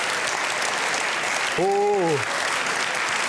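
A studio audience at a Swiss TV comedy show claps in a steady, continuous patter, with a brief vocal exclamation cutting in over the applause midway through.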